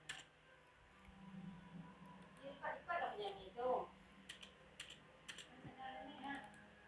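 Computer keyboard keys clicking in short bursts with a firmer Enter press, moderately close, while someone talks over the typing.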